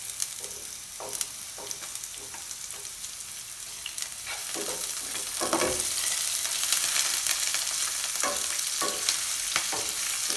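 Onions sauté in a pan for pork adobo, a continuous hissing sizzle broken by scraping stirs from a utensil, growing slightly louder midway, with no talking.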